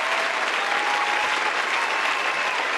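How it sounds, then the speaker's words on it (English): A burst of steady applause from many hands fills the space, dense and loud, sustained evenly throughout without pause. "let me give her a clap"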